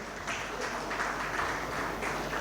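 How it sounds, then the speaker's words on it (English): A seated panel audience gives steady applause, a dense even wash of clapping heard from a moderate distance that holds at a constant level throughout. "can we have a round of applause for all our panelists here?"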